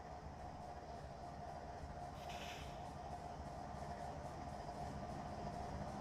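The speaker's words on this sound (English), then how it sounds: "sounds like somebody's compressor just turned on" A locomotive air compressor kicks on in the Trainz train simulator, a faint steady mechanical drone with a brief airy hiss in a quiet rail yard, no one talking.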